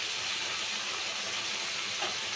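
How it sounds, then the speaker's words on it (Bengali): Chopped watermelon rind hits a pan of frying spice masala, giving a dense, steady sizzle close up that holds evenly without pause. "টুকটুক করে রাখা তরমুজের খোসাটা এর মধ্যে দিয়ে দিলাম।"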